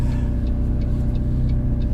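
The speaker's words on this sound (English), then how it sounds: "You hear the turbo boost kick in, the turbo winds up, then you hear a slight little blow off" Twin-turbo engine of a 2016 McLaren 650S Spider with an external wastegate, droning steadily at close range with a low rumble and faint, brief repeated hisses that may be boost blow-off.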